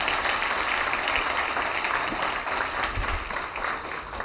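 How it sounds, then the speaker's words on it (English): A conference crowd at a summit's closing remarks gives sustained applause, a loud, dense roar of clapping that stays steady throughout and fades only slightly near the end. "let's give them another round of applause"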